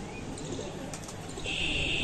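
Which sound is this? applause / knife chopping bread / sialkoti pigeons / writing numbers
sialkoti pigeons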